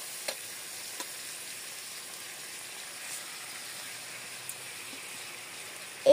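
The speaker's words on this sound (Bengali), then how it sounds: "পেঁয়াজ ও মরিচ ভাজার মধ্যে দিয়ে দেব এই চাল" Soaked rice goes into a pan of frying onions and chilies, giving a faint, even sizzle with a few light stirring clicks, close and steady with no voices.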